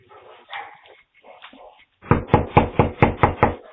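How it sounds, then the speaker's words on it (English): Police pound on a door with a rapid series of about eight loud, heavy knocks close by, after a stretch of faint scattered sounds. "they came knocking on the door and searching my car"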